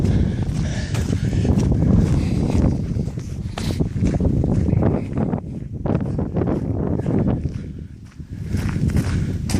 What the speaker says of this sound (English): sorry if the wind is really bad. It's kind of windy today.